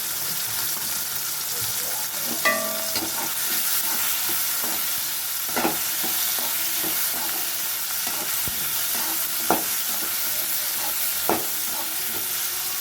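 Grated coconut sautéing in a pan for an eggplant and raw mango curry, a continuous close sizzle with occasional scraping stirs and light clinks.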